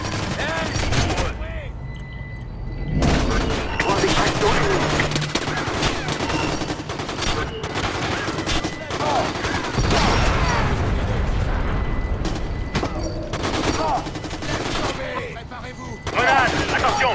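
Chaotic gunfire and fighting in the video game Splinter Cell Conviction, played in co-op: bursts of shots, mechanical clicks and booms pile up over nearly twenty seconds, with voices talking throughout the clamour.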